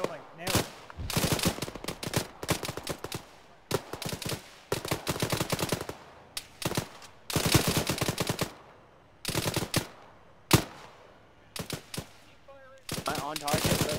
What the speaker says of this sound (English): Am I on target? Let me know if I'm shooting on target, man.